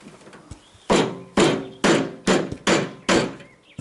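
A loose steel body panel on a 1970 Pontiac LeMans wagon is hammered down into line, six sharp ringing blows landing roughly half a second apart, close and loud, after a couple of lighter taps.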